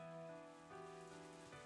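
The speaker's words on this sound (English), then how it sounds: "Oh, the rain's kicking in." Rain falling in the visual novel game Higurashi: When They Cry, a soft, steady patter under sustained droning tones from the game's music, faint and continuous with no talking.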